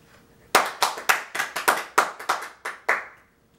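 About ten separate hand claps from a small group, loud and close, after a persuasive speech in a classroom setting, falling into a loose uneven rhythm before stopping.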